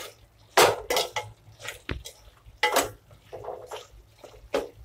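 Gongura chicken being mixed with salt and spices in a pan, with repeated scraping and clattering of a utensil against the pan in uneven bursts, close and fairly loud, with no talking.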